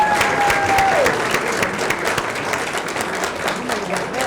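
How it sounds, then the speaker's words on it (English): Audience applause for mayoral candidates at a Stockton mayor forum, a dense, steady wash of clapping throughout, fairly loud, with a brief tone and faint voices underneath. "Can we give them all a round of applause?"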